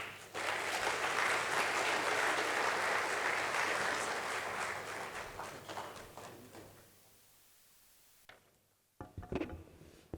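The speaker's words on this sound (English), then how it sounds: "A round of applause to Mr. Vikas Sachdev." Summit audience at an investment and real estate event breaks into sustained applause for the speaker, a dense roar of many hands that stays full for several seconds, then fades to scattered claps before a voice starts.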